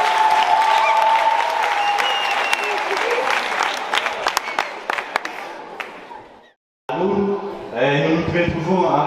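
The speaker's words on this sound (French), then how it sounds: "Max d'applaudissements, s'il vous plaît, pour les Alou." Applause from an audience at a cultural exhibition at UCBC university, dense and steady for about six seconds, fading out before a brief silence, then voices and crowd noise resuming.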